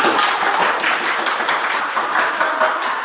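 A classroom of children claps together in applause for their classmates, a dense, steady patter of many hands filling the room for a few seconds.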